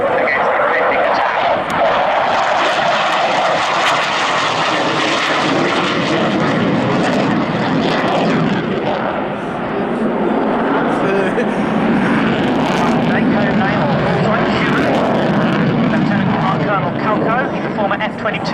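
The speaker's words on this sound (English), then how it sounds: "from 2000 has been flying this, the MiG-29" MiG-29 jet fighter in a flying display at Yeovilton Air Day 2011, a continuous loud roar of jet engines that holds steady for the whole stretch, with a public-address voice talking over it.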